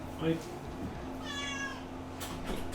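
An indoor cat gives a short meow early on, with a faint drawn-out vocal tone midway, heard softly against a quiet background hum.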